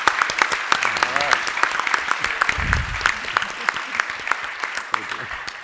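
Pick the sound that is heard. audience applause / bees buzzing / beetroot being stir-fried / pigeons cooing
audience applause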